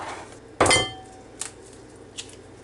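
An egg cracks sharply against a bowl edge while being separated for its yolk, one crisp close crack followed by two faint taps.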